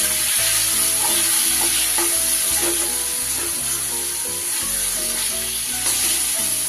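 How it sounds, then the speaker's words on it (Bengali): Masala with chopped tomato and a splash of water cooks in a pan for a bhola fish curry, giving a loud, steady sizzle close by, with repeated spatula scrapes and stirring strokes and no talking. "এবার যতক্ষণ না টমেটোটা খুব ভালোভাবে মশলার সাথে মিশে যাচ্ছে ততক্ষণ কিন্তু এটা কষিয়ে যেতে হবে"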